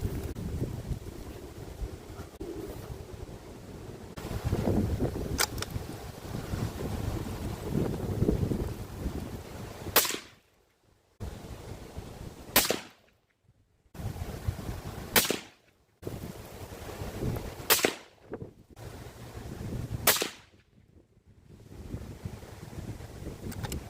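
A sniper rifle fires at range, five sharp, loud cracks spaced a few seconds apart, each followed by a brief quiet gap, over steady wind noise buffeting the microphone.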